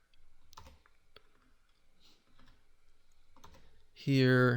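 Typing on a computer keyboard: sparse, quiet key clicks and taps come in small bursts, and a voice starts speaking right at the end.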